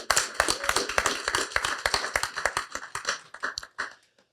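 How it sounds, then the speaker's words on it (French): A small audience at a Montreal gathering applauds, a brisk burst of clapping from several pairs of hands that thins out and fades over about four seconds. "Applaudissements pour vous."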